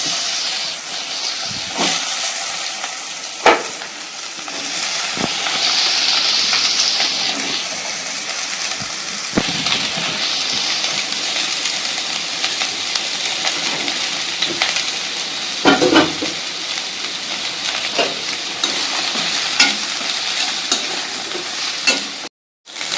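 Carrot, capsicum, radish, beans and cabbage stir-fry in a pan under a continuous hissing sizzle, broken by occasional sharp knocks and scrapes of the stirring spoon.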